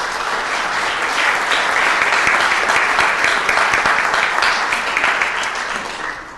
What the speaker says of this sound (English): If we could have an applause for her, please.